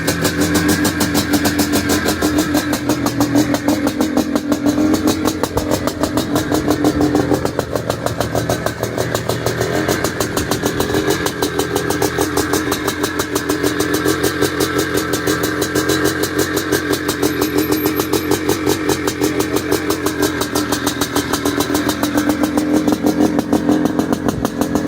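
A 1981-era Maico 490 Mega 2 open-class motocross motorcycle engine runs steadily and loudly for the whole stretch, with an even, pulsing drone and no voices over it.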